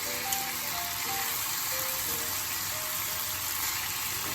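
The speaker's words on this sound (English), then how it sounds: "Okay, so we're going to put the cutlets back in" Pork cutlets for a Portuguese bifana sizzle steadily in a hot pan as they go back in, a dense continuous crackle with no voices over it.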